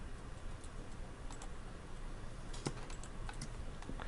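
Several computer keyboard arrow keys tapped in a quiet room, a few sharp clicks scattered through steady low background noise, close and fairly faint.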